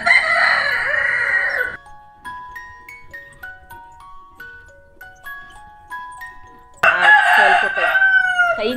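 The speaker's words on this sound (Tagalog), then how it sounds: "Kaingay talaga ng manok namin." A rooster crows loudly and close by, then a tinkling chime melody plays before a second long crow rings out.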